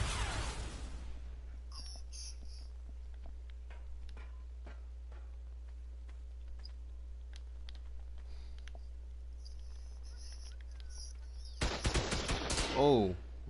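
Turrets in a video game fire sparse, light, rapid clicks that sound distant, then a louder, denser burst crashes in near the end.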